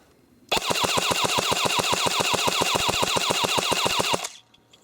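Classic Army KAA Stoner 96 airsoft gun firing one sustained burst of about seven rounds per second, a rapid even mechanical chatter lasting nearly four seconds, close and clear with no talk.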